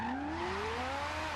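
Ferrari F40 sliding sideways on the handbrake in Forza Horizon 2, engine note climbing steadily under a continuous tire squeal, loud and close without pause.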